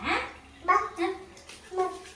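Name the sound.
pouring water while bathing a baby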